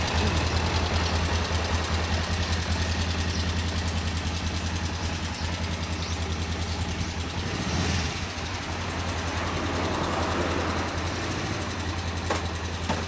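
A 1994 Kawasaki EX-4 (EX400B) motorcycle engine idles steadily throughout, a low continuous rumble with a constant throb and slight mechanical clatter, close and unchanging.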